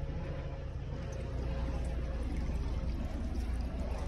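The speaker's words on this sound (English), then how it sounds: "This one has more of a violent flush" A 2002 Sanitarios Maracay toilet flushes with a forceful, steady rushing roar of water that stays loud and constant throughout.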